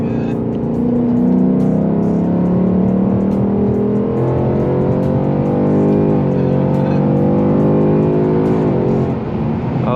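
A 2021 Ford Mustang GT with a 5.0 V8 and 10-speed automatic accelerates hard, its close, loud engine note rising in pitch through repeated climbs as gears change, with no talk over it.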